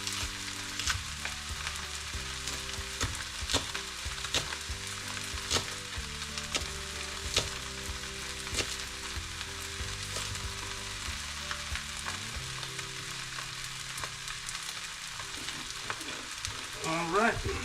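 Egg fried rice crackles and sizzles in a hot pan with green onion, spatula scrapes and stirring clatter recurring over a steady frying hiss, moderately close and without talk.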